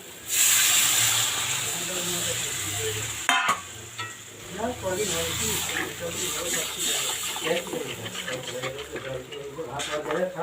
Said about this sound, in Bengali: দেখুন মশলাটা ভাজা হয়ে গেছে আমি এর মধ্যে পরিমাণ মতো জল নিয়ে নিচ্ছি